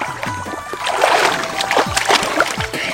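Water splashes and sloshes close by as people plunge in together, with bursts of splashing against a busy background and voices talking over it.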